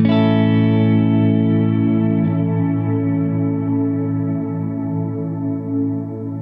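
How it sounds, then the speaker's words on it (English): A sustained electric guitar chord rings out through a Fractal unit's cumulonimbus reverb, washed in heavy, lingering reverb that slowly swells and decays, with no voices. "I have a cumulonimbus reverb dialed in on the fractal."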